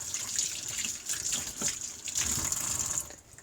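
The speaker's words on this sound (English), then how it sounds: "rinse her off real quick" Tap water rinses a paint-stripped Breyer-style model horse under a faucet, a soft, steady splashing flow with light drips, fairly quiet and close, no speech.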